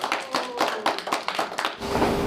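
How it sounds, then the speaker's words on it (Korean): Audience at a Korean seniors' Better Life forum clapping together in a short, loud burst of rhythmic claps that fills the hall, then settles. "다시 한번 박수."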